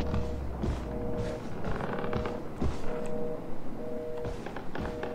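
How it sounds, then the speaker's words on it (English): Creaking in the horror video game Outlast: repeated drawn-out wooden and metal creaks with taps and soft thuds over a dull ambient rumble, steady throughout. "There's so many creaking noises"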